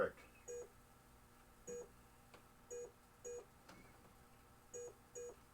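Optos in a 1991 Williams Hurricane pinball machine beeping as the ball passes, short clear tones in pairs and singles at uneven intervals over a low room hum.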